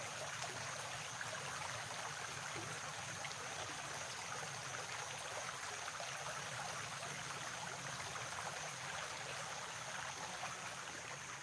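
Outdoor stream of water flowing steadily beside a path in nature, a constant soft broadband wash of trickling water heard alone, fairly distant and even throughout.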